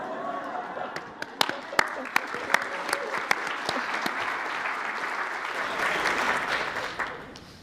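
An audience at an MIT medical meeting bursts into applause, a dense wash of clapping with a few sharp, close claps standing out early, swelling toward the end before fading.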